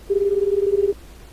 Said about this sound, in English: you hear it ringing